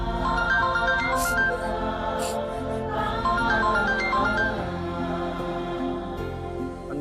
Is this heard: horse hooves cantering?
no